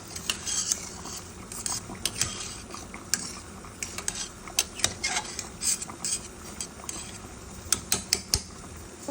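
A fork stirs and fluffs cooked rice in a pot, making a steady run of light metallic scrapes and clinks with irregular rhythm, close up and alone.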